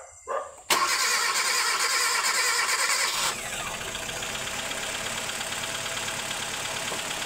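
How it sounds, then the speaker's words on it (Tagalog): A Hyundai Accent that would not start cranks briefly and then catches, and its engine roars loudly for a few seconds before settling into a steady, close idle. "So bali ayan mga boss, umandar na siya"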